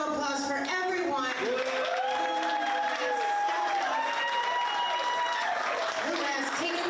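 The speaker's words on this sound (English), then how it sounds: "All right, let's give a round of applause for everyone" Audience applause fills a candidates' fundraiser lunch, steady dense clapping with some cheering throughout, loud and continuous from start to end.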